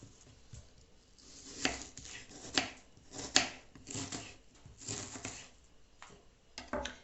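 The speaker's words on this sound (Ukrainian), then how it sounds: "наріжу нашу цибулинку на маленькі кубики" A knife dices an onion on a cutting board, irregular taps and scrapes at close range with short pauses between bursts.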